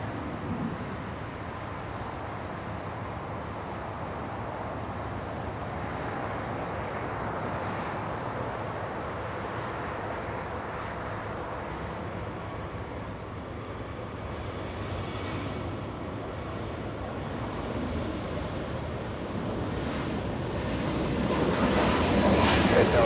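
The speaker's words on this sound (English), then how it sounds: "Delta 464 throttling up." Delta 464 jet throttling up for a rolling takeoff at LAX, a broad steady engine roar held at a distance that swells louder toward the end, no voices over it.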